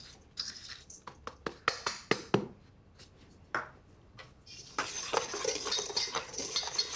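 Flatbread dough ingredients with salt are stirred in a bowl, producing a run of sharp utensil clicks and scrapes against the dish, a pause, then a denser, continuous scraping stir toward the end.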